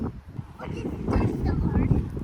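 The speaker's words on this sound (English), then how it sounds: "I bet it's so windy you guys can't even hear me." Gusty wind buffets an outdoor microphone in a front yard during sloping and drainage work, a steady low roar that swells louder in the second half, with speech mixed in beneath it.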